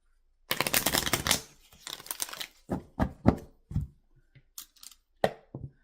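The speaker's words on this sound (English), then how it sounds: "let's give you a good shuffle here" Tarot cards being shuffled by hand in a quiet room: a dense riffling burst up front, then a run of separate papery flicks and taps with short gaps, close and fairly soft.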